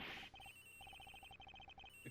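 A telephone rings in the Ace Attorney Investigations video game, a rapid electronic trilling pulse repeating in short bursts, faint and steady, with no talking over it.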